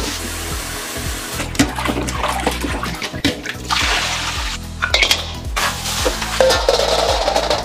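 Fresh river snails, already purged of grit and with their tips clipped, are scooped and rinsed by hand in a basin of water, giving repeated close sloshing splashes mixed with the light clatter of shells and no talking.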